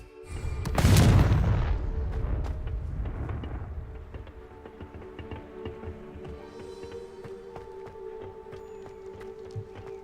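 Confringo spell blast in the video game Hogwarts Legacy: one loud explosive boom near the start that rolls off into a rumbling tail, followed by lighter scattered game sounds and footsteps.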